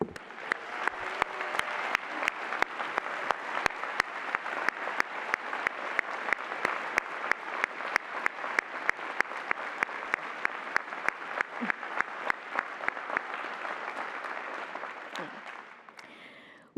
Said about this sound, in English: One more round of applause for you.